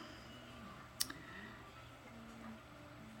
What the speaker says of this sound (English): I always just keep clicking preview and checking to make sure it looks how I want it to.